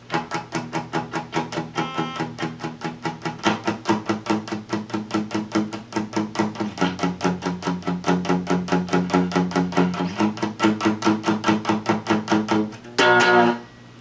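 A guitar chugs through the verse in a fast, even down-up strum of muted chords, shifting chord shapes every few seconds, close and steady, ending in a brief ringing strum.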